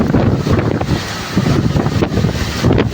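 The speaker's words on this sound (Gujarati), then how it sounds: "પવન જોરદાર છે" Strong stormy wind during heavy rain and a dust storm in Gujarat roars and buffets the microphone in loud, continuous gusts, with no talking.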